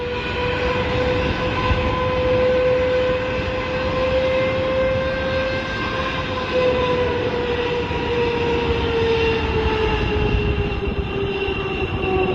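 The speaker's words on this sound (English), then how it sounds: "This trailer getting blown over by a Boeing 777 jet blast." A Boeing 777 jet blast roars steadily over a trailer, loud and close, a continuous broadband rush topped by a sustained whining engine tone that slowly drops in pitch.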